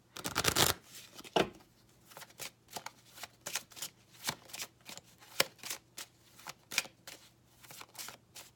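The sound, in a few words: shuffling a deck of tarot cards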